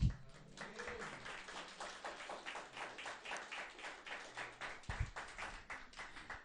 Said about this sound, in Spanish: Vamos a dar una gloria a Dios y un aplauso al Señor.